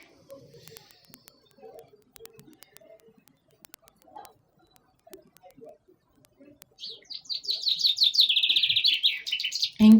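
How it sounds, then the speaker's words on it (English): Birds chirp outdoors in a rapid run of high tweets near the end, following quiet scattered sounds and clicks, heard during a guided heart meditation with nature noises around. "here there are a couple of birds who are contributing even"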